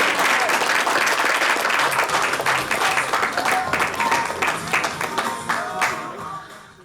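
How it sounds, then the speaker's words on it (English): An audience at a live comedy show bursts into loud, dense applause that holds steady for several seconds, then gradually thins and fades toward the end. "Big round of applause for Mr. Ryan Lachance."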